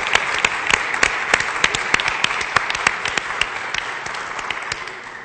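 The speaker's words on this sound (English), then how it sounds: "this applause is to say good morning and welcome, welcome, welcome." Church congregation applause welcoming visitors at a morning service, close individual hand claps standing out sharply over a broader bed of clapping that gradually thins and fades.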